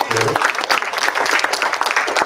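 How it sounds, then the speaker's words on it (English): A congregation at a Sunday church service gives a round of applause, a brief burst of dense clapping with a voice mixed in underneath. "We give her a round of applause for acting like that."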